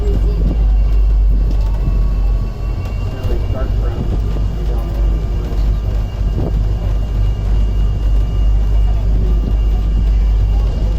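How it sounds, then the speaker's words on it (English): Steady traffic rumble from the Bronx River Parkway beside a zoo, a constant low roar of passing vehicles carrying on throughout with faint speech mixed in. "we hear what sounds like the city's traffic moving around right behind us"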